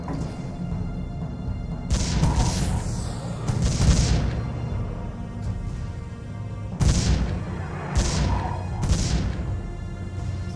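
Cannon towers in the strategy game Defense Grid: The Awakening fire a series of heavy booming shots over a steady rumbling game backdrop, with bursts recurring in uneven clusters of two or three.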